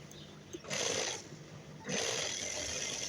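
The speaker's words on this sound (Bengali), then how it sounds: "সেলাই চলছে" A sewing machine stitches palazzo pants in two steady runs, with a short pause between them, loud and close with no voices.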